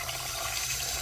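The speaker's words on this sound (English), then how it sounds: "we're gonna fill it back up with water to dilute the solution again" Water is poured to refill a container of opal-treatment solution, a steady close hiss and rush of liquid filling throughout the brief moment.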